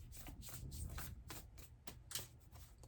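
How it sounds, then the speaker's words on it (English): A Starseed Oracle card drawn from a deck, heard as a series of soft, close papery riffles and slides, with several quick brushing bursts in irregular rhythm and no talk. "Let me pull one of these Starseed Oracle cards"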